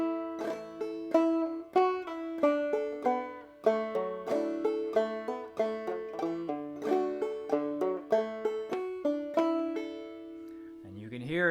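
Clawhammer banjo picks out the fiddle tune Belle of Lexington in a steady, bouncing rhythm of bright plucked notes and drone strums, close and clear, played alone for about eleven seconds before a brief noise at the end.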